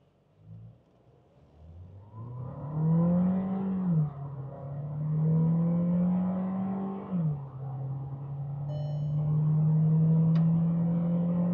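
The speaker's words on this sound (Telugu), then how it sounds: "మనం ఒక తొక్కుదాం, కార్ ఏం చేస్తుందో చూద్దాం." Skoda Slavia sedan accelerating hard from a standstill in sport mode with traction control off, its engine note climbing strongly, dipping briefly at two gear changes, then pulling loudly again from inside the cabin.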